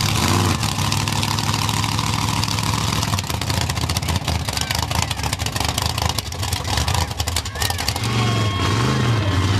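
A heavy 4x4 off-road show truck of about 15,000 to 20,000 pounds roars and revs loudly while crushing cars, with metallic crunching and scraping under the throaty engine and voices faintly in the mix.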